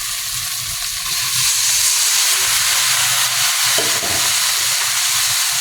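Vegetables and tomato being sautéed in a hot pan, a loud continuous sizzle and hiss with faint stirring scrapes underneath, close and steady throughout.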